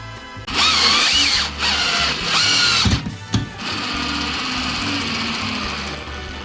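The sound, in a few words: power drill driving screws in torque mode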